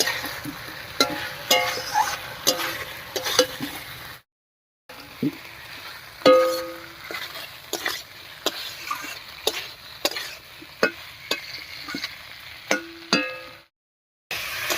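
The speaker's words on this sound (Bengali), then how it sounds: "এবারে ভেজে রাখা পটলটা দিচ্ছি পটলের সঙ্গে একটু কষিয়ে নেবে" Fried pointed gourd is stir-fried with potatoes and a spice paste cooked down in oil, giving a sizzling fry broken by repeated scraping and clinking stirs of a spatula in the pan, with a couple of short gaps.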